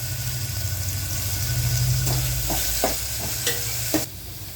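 Continuous sizzling of green chillies and finely chopped potatoes frying in a pan, a low hum underneath and a few sharp scrapes of a utensil stirring near the end.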